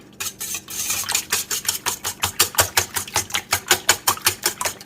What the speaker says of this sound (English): whisk them up a little bit